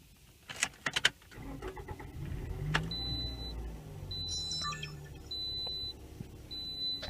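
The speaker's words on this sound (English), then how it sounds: "Here's what the car sounds like when we start it." A 2008 Toyota RAV4 starts with a few key clicks and a brief engine crank, then settles to a low idle. A seatbelt warning chime beeps in four evenly spaced bursts over the idle, with no talking.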